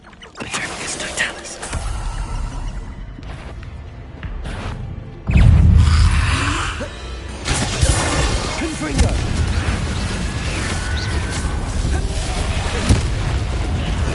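A deep, booming blast from the Bombarda spell in Hogwarts Legacy erupts loudly partway through, followed by rumbling debris and game ambience, with a voice heard around it.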